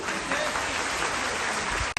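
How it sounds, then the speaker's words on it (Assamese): An audience claps at a ceremony, a dense, steady burst of applause from many hands that cuts off abruptly at the end. "আমি উপস্থিত আটাইকে ডাঙৰ হাত চাপৰি দিবলৈ আহ্বান জনাইছোঁ।"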